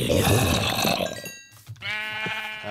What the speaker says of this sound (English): there's one more sheep